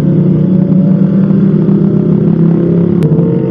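A Kawasaki ZX25R sport motorcycle on a group Sunday ride revs steadily up close, a loud sustained engine drone holding pitch throughout with a brief sharp click near the end.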